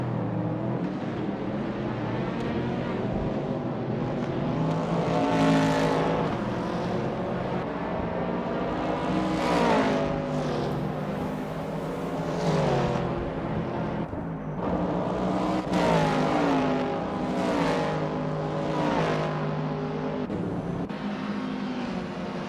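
Race car engines in a racing video game, including a 1970 Simca Rally 3.0, whine and rev continuously with shifting pitch sweeps as cars accelerate and pass, loud and unbroken throughout with no talk.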